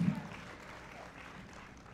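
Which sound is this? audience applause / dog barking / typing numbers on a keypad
audience applause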